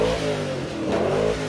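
A TVR sports car engine revs up with a rising, harmonic roar, holding a strong mid-pitched note briefly before easing, close and loud with no voices.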